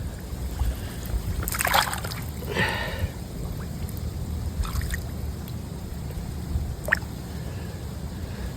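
A big bass released back into a lake makes a couple of brief splashes and water sloshes early on, then quieter dribbles over steady outdoor background noise.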